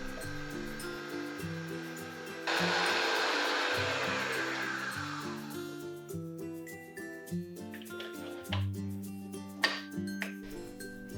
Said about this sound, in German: Die beiden Zutaten werden jetzt für 5 Minuten kräftig schaumig gerührt.